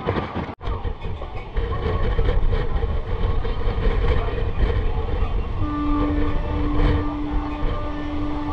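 Howrah to Digha local train running across the Rupnarayan river toward Kolaghat, a loud rumbling rush of wheels and carriages with rhythmic clatter and a long sustained horn tone near the end, no talking.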